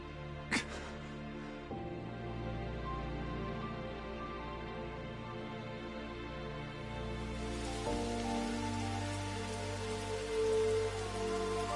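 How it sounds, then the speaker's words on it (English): Rain in the video game Scarlet Nexus, a steady patter that thickens partway through, set under a sustained musical drone with no talking. "It started actually raining."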